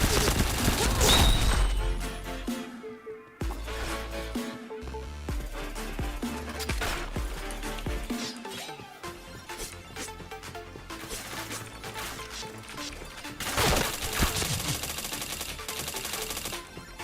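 Rapid bursts of gunfire crackle over busy game sounds and effects in Point Blank, with loud clusters of shots near the start and later on.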